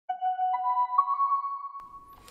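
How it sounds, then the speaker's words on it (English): A filtered synth bell lead plays a short rising line of three sustained, pure tones with soft harmonics for about two seconds, loud and alone, before a brief noisy tail. "Then we have this bell lead right here."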